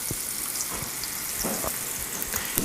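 Artichoke chicken pieces browning in a pan over medium-low to medium heat, giving a faint, steady sizzle with scattered soft pops and crackles throughout.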